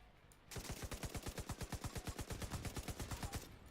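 An LMG in The Division 2 fires a steady sustained burst of about thirty evenly spaced rounds in quick rhythm, close and loud, with no talk over it.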